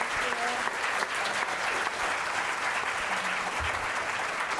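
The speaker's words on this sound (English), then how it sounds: "A round of applause for them." An audience at a native plant society conference gives dense, steady applause to a panel, continuous and fairly close, with faint voices mixed in.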